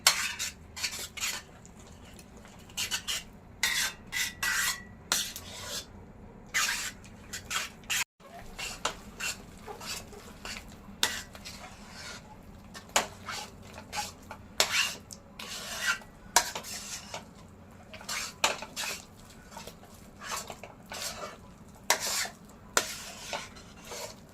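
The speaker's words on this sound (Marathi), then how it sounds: "मंद गॅस ठेवलं आहे त्याच्यात मिश्रण थोडं थोडं हे हलवून घेतं" Coriander vadi mixture being stirred in a pan over a low gas flame, with repeated scraping and clinking of a spoon against the metal in an irregular rhythm, close and fairly quiet, with no talking.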